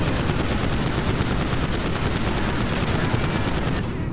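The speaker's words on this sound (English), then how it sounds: "My machine guns work." Sustained machine gun fire in GTA 5, a dense unbroken stream of rapid shots that stays loud and steady throughout before easing slightly at the very end.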